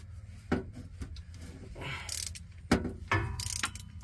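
Wobble head ratchet clicking in irregular bursts while a 2005 Ram 1500 automatic transmission is removed, with scraping and knocking of metal and tools in a garage at close range.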